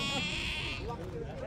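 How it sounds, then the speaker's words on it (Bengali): A goat bleats once, loud and close, at an Uzbek livestock market before Eid sacrifice, with a voice speaking over the crowded background. "সব ছাগল আসতেছে, গরু দেখা যাইতেছে না।"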